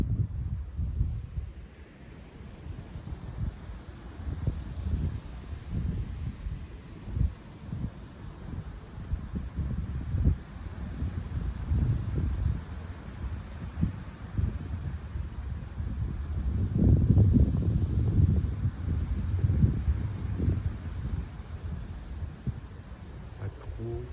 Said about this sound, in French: Et par moment il y a des rafales.